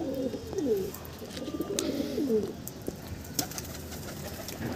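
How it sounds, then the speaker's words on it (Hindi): Pigeons coo softly at a bathing spot, low rolling calls repeating twice, close but fairly quiet over a steady background hiss with faint scattered clicks. "अब देखिए कबूतर नहाते कैसे।"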